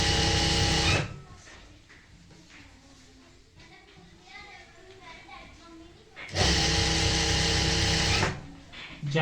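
An electric sewing machine stitches pleated palazzo pants in two loud, steady whirring bursts, one at the start and one near the end, with someone talking in the quieter stretch between.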